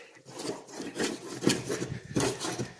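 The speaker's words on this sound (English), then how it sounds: "Okay, it is letting go, and this is able to scrape it." Old wallpaper being scraped off a wall in a project house, heard as repeated rough rasping scrapes in steady strokes, close and clear.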